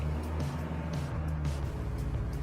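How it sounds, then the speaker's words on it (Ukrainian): Manual car held on the brakes while the engine is revved lightly, a low steady hum that rises gently in pitch, close and moderately loud. "просто переводимо носок на газ і легенько додаємо обертів"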